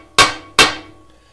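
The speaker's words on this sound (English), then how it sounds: "is a hammer" Two sharp, ringing metallic taps from the small hammer on a MIG welding pliers tool, close up and clearly separated, each decaying quickly in a quiet workshop.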